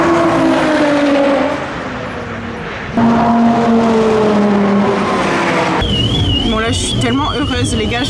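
A Lamborghini Aventador SVJ drives at a tire-burning car event, its engine tone rising and falling through gears with a dip midway, then screeching tire squeal toward the end, with a person talking over it.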